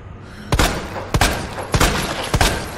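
Four sharp, loud gunshots ring out in Resident Evil 2 Remake at roughly even intervals, each a punchy crack followed by a short decaying tail, with no talk over them.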